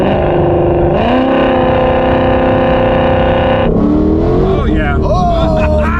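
A Carbon Track Pack Ford GT500 with a Whipple supercharger, making nearly 1200 hp, accelerates hard, its loud engine note climbing steadily through the gears with a shift near the middle, while people talk briefly over it.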